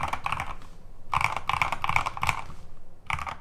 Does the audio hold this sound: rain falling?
no